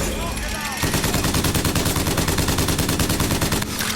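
Rapid automatic fire from the crank gun in Bioshock Infinite, a fast mechanical rattle of rounds in quick succession that starts after a brief burst of game sound and runs steadily, loud and close, before cutting off.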